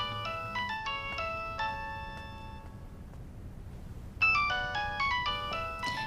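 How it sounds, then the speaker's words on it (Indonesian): A telephone rings with a bright, repeating electronic melody of tonal notes, pausing briefly before the tune starts again, clear and prominent with no talking. "Ada telepon."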